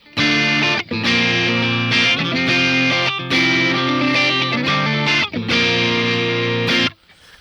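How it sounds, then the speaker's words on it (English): Electric guitar through the Timmy overdrive effect of a Donner Arena 2000 multi-effects unit, loud crunchy chords in phrases separated by short pauses, alone and close, ending abruptly. "Here's a Timmy."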